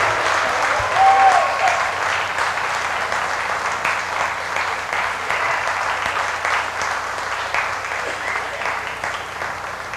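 Crowd applause at a 1998 bluegrass jamboree, a sustained wash of many hands clapping at close range that slowly tapers over ten seconds.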